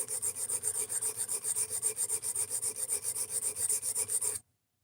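An S90V steel Benchmade Mini Bedlam knife blade drawn over a sharpening stone, quiet rhythmic rasping strokes in a fast even back-and-forth pattern, close up and alone.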